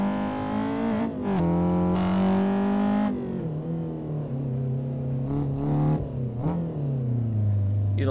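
Honda S2000 engine revving hard in a touge racing game, a loud, continuous, distorted engine note that climbs and drops through gear changes with no talk over it.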